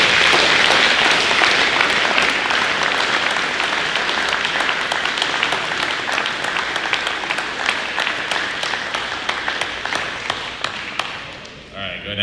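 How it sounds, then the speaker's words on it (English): Long round of applause for middle school students at an academic awards ceremony, many hands clapping steadily and fairly loud, thinning and fading near the end. "please give these guys a huge round of applause"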